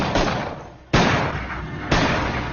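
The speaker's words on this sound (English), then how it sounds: "Then, Archer hears several more gunshots coming from the cabin below" Two loud gunshots ring out about a second apart from a boat's cabin below, each with a sharp crack that decays into a reverberant tail.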